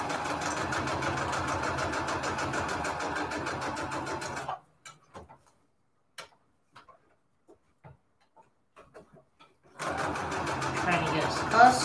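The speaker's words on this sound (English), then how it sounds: "I'm sewing over some thread because it sounds crazy." Sewing machine stitching envelopes, running in two steady, loud mechanical bursts, with quieter handling clicks in the gap between them.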